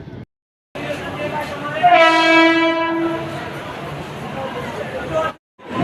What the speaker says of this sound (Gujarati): હાલ અત્યારે આપણે બોરીવલી રેલવે સ્ટેશન આવી ગયા છીએ